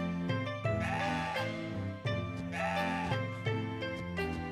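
Goat bleating in the video game CrossCode, layered over busy game music with repeated tonal notes; the bleat-like calls recur several times across the clip at steady loudness, with no talking.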